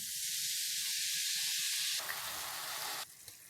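Chopped onions frying in oil for a gözleme filling, a loud, steady sizzle and hiss close by that drops off sharply near the end, leaving a quieter crackle.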